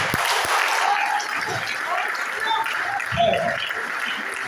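A church congregation breaking into sustained applause during a worship service, a dense, loud wash of clapping from many hands, with voices audible through it.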